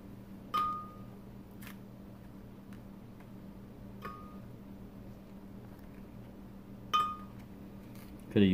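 Sparse, faint clinks of ice cubes against glass, a few isolated hits spread apart over a steady low hum, in a kitchen making keto ice cream.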